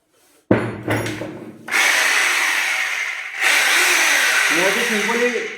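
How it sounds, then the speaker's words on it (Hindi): An Xtrapower rotary hammer drill bores a hole into a piece of wood, a loud close whine in two long bursts after short starts and handling noise, with a voice briefly audible near the end. "ये मेरे पास में एक लकड़ी का टुकड़ा है फिलहाल, तो इसी में होल करूंगा मैं"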